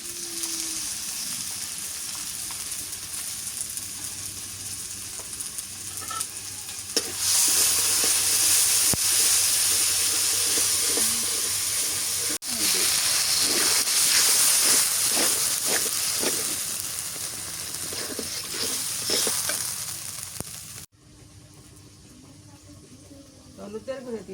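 Ginger paste and spice paste fry in a pan, a soft hiss that swells into a loud, crackling sizzle midway and then cuts off abruptly, with a person talking over it.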